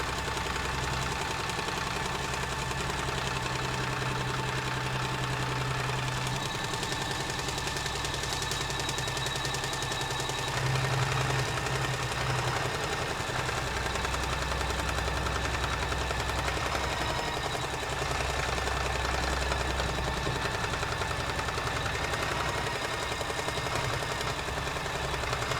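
An embroidery machine stitches out the second colorway on mylar for a stained glass table runner, a steady, dense mechanical whir and rapid needle chatter running continuously and fairly loud throughout, with no talking.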